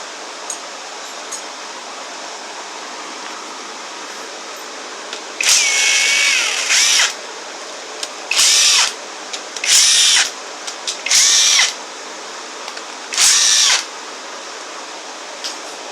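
Power tool spinning out valve cover bolts on a Honda J30A5 engine during a teardown, five short close whirring bursts separated by pauses over quiet background hiss.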